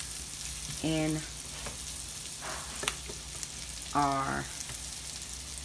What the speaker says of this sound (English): sun-dried tomatoes, we're just gonna let these saute a little bit